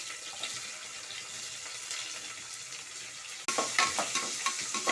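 Onions hit hot oil with whole spices for chicken biryani, a steady sizzle that suddenly jumps louder and busier partway through, close and with no talk.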